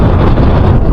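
Strong wind on a mountain road near Mt. Kilang, loud roaring buffeting against the microphone, constant and close, with no other sound.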